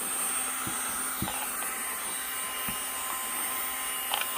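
A nail e-file drill runs at about 20,000 RPM, giving off a steady, fairly quiet high-pitched electric whine with a few faint clicks and taps in the background.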